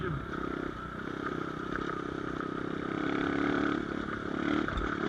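A Hurricane V2 Nitro Motors 250cc dirt bike rides along a dirt track, its engine droning steadily and loudly with slight rises in revs and some rattling.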